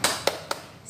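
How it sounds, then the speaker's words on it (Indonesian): A class of young pupils claps a short rhythmic cheer together, three sharp bursts of claps spaced out, fairly close and loud, with no talk over them. "Yuk kita tepuk semangat dulu yuk"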